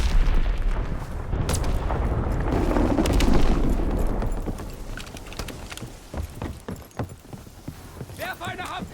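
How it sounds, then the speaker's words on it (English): An enemy bomb explodes in the Call of Duty WW2 team deathmatch game on Xbox One X, giving a heavy, rolling boom that swells and fades over several seconds before quieter game sounds and a brief voice. "Enemy bomb incoming. Get to cover."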